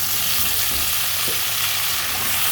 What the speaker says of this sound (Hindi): आलू को 2 से 3 मिनट तक फ्राई करेंगे।